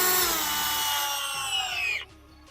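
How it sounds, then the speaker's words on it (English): A power drill bores into a plastic-cased axle bush on a Ford Fiesta, a loud high whine for about two seconds that slows and cuts off abruptly. "Because these are plastic cased drill axle bushes, but drill down either side, crack the casing."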